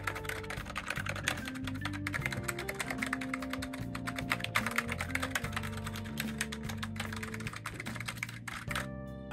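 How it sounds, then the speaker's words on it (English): Rapid, steady typing on a ROCCAT MAGMA Mini membrane TKL keyboard, a dense run of soft clicks and taps close up, with music playing underneath throughout. "The ROCCAT MAGMA Mini has a membrane key switch that provides a quiet but satisfying typing experience."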